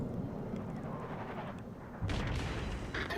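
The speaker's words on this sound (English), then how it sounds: "As for these guns are the Yamato's guns." Yamato battleship main guns firing in the World of Warships Legends video game, a rumbling broadband barrage that swells into a louder, heavier burst about two seconds in. The sound is moderately loud, with no talking.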